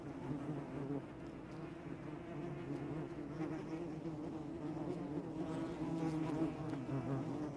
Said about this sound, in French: J'ai positionné mes microphones au sol, contre un rocher sous lequel s'est installée une colonie de guêpes.